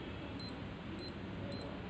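A repaired SKMEI wristwatch alarm gives three short, high, faint beeps, evenly spaced about half a second apart, over a quiet background.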